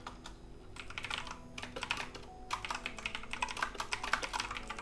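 Someone types code on a computer keyboard with quick, uneven runs of close, crisp keystrokes and a brief pause partway through, with no voice over them.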